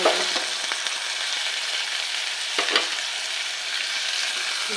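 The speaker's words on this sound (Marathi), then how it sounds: "वांगी परतून घ्यायची कच्चा पण गेला पाहिजे" Brinjal pieces stir-fried in a pan give a continuous sizzle, with occasional louder scrapes and clatters as they are turned, close and steady with no talking.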